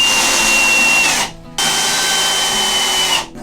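A power drill drives 2.5-inch construction screws into wood inside a garden shed being converted into a bathroom: a loud, close, steady whine that stops briefly, then runs again for nearly two seconds before cutting off.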